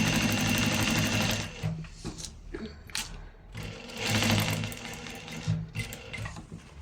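Sewing machine stitching in a tailoring shop, close and loud in fast rattling bursts that stop and restart, with short pauses between runs.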